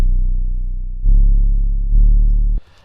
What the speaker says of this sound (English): I have this 12 dB OSR module, which is a type of distortion